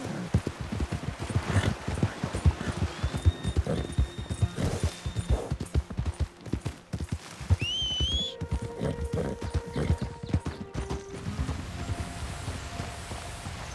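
A horse walks in Red Dead Redemption 2 along a waterfall's edge, its hooves clip-clopping steadily and close, with brief whinnies and rushing ambience underneath, no talk.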